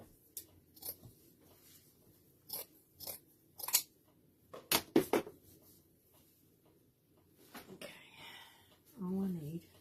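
Scissors snip through paper for a spring lamb decoration, making a scattered run of sharp, close clicks and crunchy cuts with short gaps between them, followed by a brief rustle and a voice near the end.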